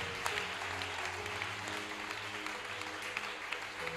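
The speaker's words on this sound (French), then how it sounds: "Acclame pour le Seigneur très fort." A church congregation in Pointe-Noire applauds the Lord, a dense sustained clapping from many hands filling the room, steady and fairly loud throughout with a low hum beneath.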